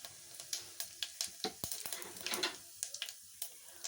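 Half a teaspoon of cumin seeds crackles faintly in a hot pan while masala puri is made, with scattered small pops and clicks at an uneven rhythm over a quiet hiss.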